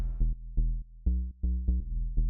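Low-octave analog-style synth bass sample plays short, punchy repeated notes in a bouncy, syncopated rhythm, each note starting sharply and cutting off cleanly; deep, close and alone with no voices.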